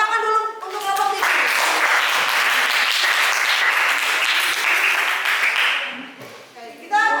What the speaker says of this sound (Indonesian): Tepuk tangan dulu untuk kelompok ini.